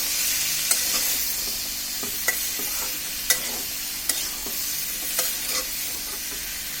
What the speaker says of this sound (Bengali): এটাকে ভালোভাবে কষিয়ে নিচ্ছি